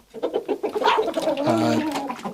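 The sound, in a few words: backyard chickens clucking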